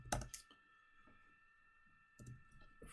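Typing on a computer keyboard comes through as faint, sparse key clicks and taps, with a couple of louder bursts, over a quiet electrical hum.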